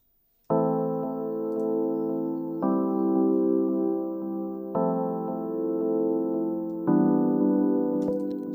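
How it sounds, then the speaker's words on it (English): Electric piano chords from a Rhodes patch loaded in DirectWave play a simple pattern of four sustained chords, each struck cleanly and ringing evenly before the next, with no talking. "So the keys I have is the Rhodes over here in direct wave."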